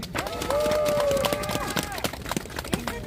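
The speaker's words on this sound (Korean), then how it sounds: "다시 한번 큰 박수 한번 주시고요" Scattered and massed clapping rises from a crowd at a rally press conference, with sustained voices or tones overlaid in the first half before the applause thins to sparse claps.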